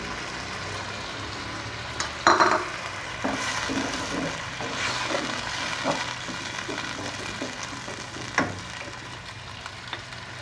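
Yogurt going into frying beef yakhni pulao, a steady soft sizzle with stirring scrapes and a few sharper clinks, moderately close and without talk.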